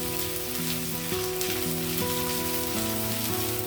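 Onions and ginger garlic paste frying in peanut oil for pumpkin curry, a steady, dense sizzle that crackles continuously, with light background music running underneath.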